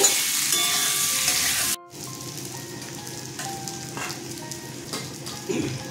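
Potatoes with turmeric and salt fry in oil in a wok, giving a loud, dense, crackling sizzle. The sizzle cuts out briefly, then carries on slightly softer and steadier, close up, with no voices.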